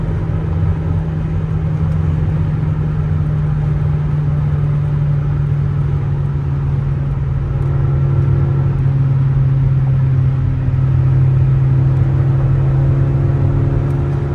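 A 1987 Toyota MR2's small engine hums steadily from inside the car at highway speed, a continuous mid-pitched drone with road rumble that swells slightly toward the end, with no voices.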